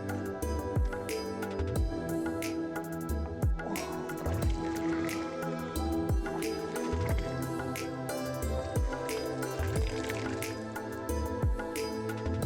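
Water at Satopanth Tal, a high mountain lake, dripping and splashing during bathing, with repeated irregular drips and small splashes over a low background.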